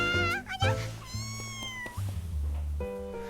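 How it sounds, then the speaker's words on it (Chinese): A young kitten, about a month old, meows repeatedly in high, clear calls, several in quick succession and then longer drawn-out cries, close and loud, with low household noise underneath. "哎，这不是小猫崽吗？"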